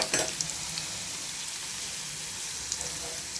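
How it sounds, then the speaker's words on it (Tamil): Garlic frying in hot oil for a pirandai pickle, a steady close sizzle and crackle with a brief stirring scrape at the start, alone without talk. "பூண்டையும் போட்டு நல்லா பொரிச்சுக்குவோம்."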